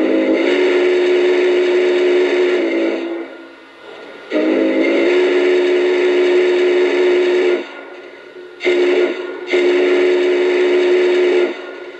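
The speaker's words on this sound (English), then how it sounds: "watch what happens when I blow the whistle" A Lionel Vision Line 4-6-6-4 Challenger model train steam whistle blows in long, loud, steady blasts: two sustained toots, then a short one and a final long one, with brief gaps between.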